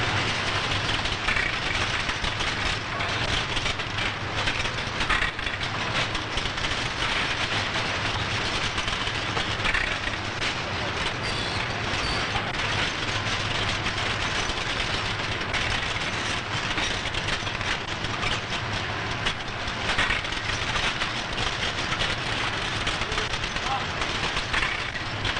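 A Mergenthaler Linotype typesetting machine, a century-old unit that assembles, casts and redistributes type, runs with a steady, dense mechanical clatter and hum that continues loud and unbroken for about twenty-five seconds.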